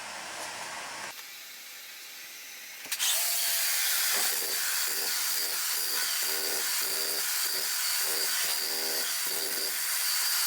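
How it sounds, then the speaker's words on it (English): A loud jackhammer roars up after a short lower hum, then runs continuously with a rapid pounding rhythm breaking a basement concrete floor, close by, no talking. "Just gonna start up with the jackhammer and try to loosen this last bit"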